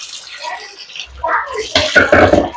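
Fish being rinsed in water, with splashing and sloshing that builds in bursts and grows louder toward the end, while a voice is briefly heard.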